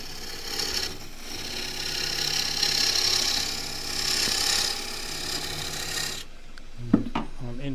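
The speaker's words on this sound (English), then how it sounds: "use the asymmetric gouge to cut a smooth curve up to where the beads will be" A large asymmetric bowl gouge cuts green casuarina wood spinning on a lathe, a steady close rasping hiss that drops out near the end, followed by a few clunks and a brief voice.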